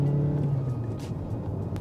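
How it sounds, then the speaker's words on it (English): Mazda CX-5 2023 with a 2.0-litre petrol engine pulls away from a roundabout, a steady low engine drone heard from inside the cabin with a faint rise in pitch, no talking. "Right, let's accelerate out of a roundabout."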